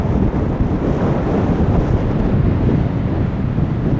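Wind blows hard in the Bitterroot Mountains of Montana, buffeting the microphone in a steady, close roar with no voices.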